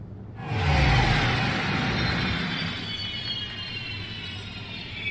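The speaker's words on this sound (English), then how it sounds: "Watch the VTOL engines." VTOL engines of a Drake Corsair spaceship in Star Citizen, a loud rising whooshing roar that swells then settles into a steady whirring hum, close and without talk.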